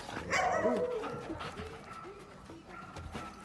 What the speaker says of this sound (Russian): Красивый пес.